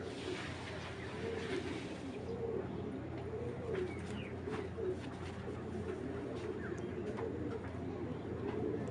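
Racing pigeons cooing, soft repeated low coos throughout against a steady background hum, with faint chirps and a little distant talk.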